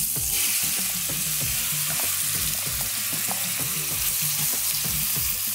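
Chicken pieces sizzle and fry in a hot pan with spluttered cumin seeds for jeera chicken, a loud continuous crackle with repeated scraping stirs and no talking.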